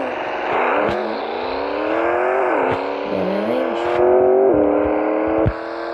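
Video game car engine revving loudly and close, with repeated rising pitch sweeps as it accelerates through gears, broken by brief dips and clicks, no talk.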